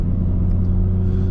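A Stage 2 2018 Audi RS5 Coupe rumbles steadily while driving, its exhaust giving a low, close droning burble with a few faint pops, no voices present.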